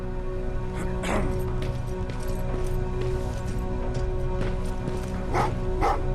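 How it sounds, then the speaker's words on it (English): Dogs in the video game Terminator: Resistance bark in a few sharp bursts, one early and a pair near the end, over a steady droning game ambience. "Well, what's with the dogs?"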